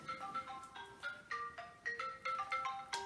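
A phone rings with an incoming call, a faint melodic electronic ringtone playing a repeating sequence of bright tones in a steady rhythm, heard indoors with no talk over it.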